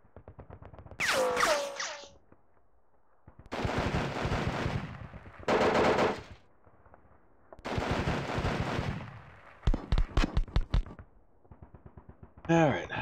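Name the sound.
rifle shots from partisans in wargame video game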